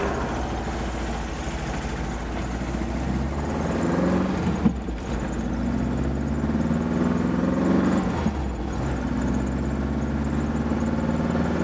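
A Porsche 914 sports car driving with its engine running, a steady, fairly loud low drone that swells and dips around the middle of the run.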